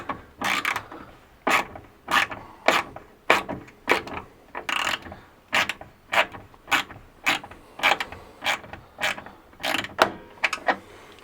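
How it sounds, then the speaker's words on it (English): A socket wrench ratchets in quick repeated strokes, close and clear, as a 10 mm socket tightens the exhaust on a Can-Am Outlander ATV, with a steady rhythm of clicking pulls and brief pauses between them. "just take our socket. Just start tightening it."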